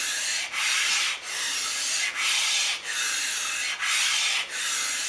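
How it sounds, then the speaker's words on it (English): Sandpaper rubbing the metal back of a Stanley No. 60 low angle block plane sole: steady raspy strokes in a rhythmic back-and-forth, each drag lasting about a second with brief pauses between, close and clear with no talking. "I'm going to sand as I pull it on the back drag, and you'll hear it taking the metal away."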